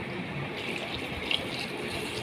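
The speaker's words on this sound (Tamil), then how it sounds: "நமக்கு எவ்வளோ தண்ணி தேவைப்படுதோ அங்கே அவ்வளோ தண்ணி ஊற்றிக்கலாம்." Water poured into a pot while making a red amaranth greens stem soup with garlic, onion and tomato, heard as a steady, soft, continuous filling rush with no talk.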